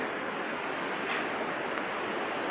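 A swollen, flooded river rushes nearby in Sindhupalchok, Nepal, producing a loud, unbroken roar of churning water.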